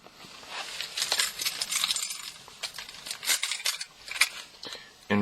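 An inverted laser-cut car key and keys are handled up close in a cold garage, giving soft clinks and metallic jingles over a few seconds with no talking.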